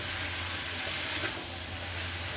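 Fried imin noodles being stirred in a hot pan give off a steady, close sizzle and hiss, with faint scraping of the stirring running under it throughout.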